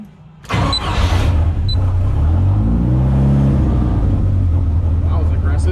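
Engine of the Rat10 project car fires back up with a sudden loud start, then settles into a steady, close rumbling idle with a rising and falling tone and no voices over it.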